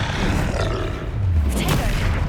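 Confringo fire spell blasting in Hogwarts Legacy, a loud rumbling roar of fire and impact filling the moment with continuous low booming.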